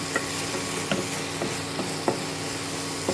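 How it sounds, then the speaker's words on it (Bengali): Shrimp paste for chingri bata is stirred in a frying pan: a steady low sizzle runs underneath while a spoon scrapes the pan in several short, uneven strokes, close by and with no talking. "আবার আমি ঢাকনা খুলে আবার আমি নাড়াচাড়া করছি"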